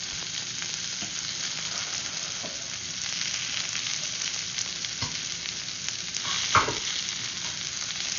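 Mushrooms sizzle steadily as they caramelize in a hot pan, with a few scraping stirs and a sharper clack near the end, all without any talking.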